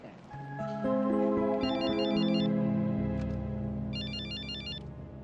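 A telephone rings twice in bursts of electronic trilling, fairly loud, over steady background music, with no talk.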